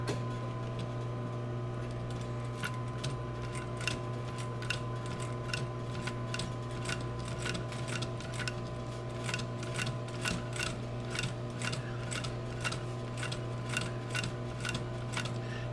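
Hand-stitching a strap onto a leather bag, a regular series of faint pulling and ticking strokes repeating steadily over a constant low background hum.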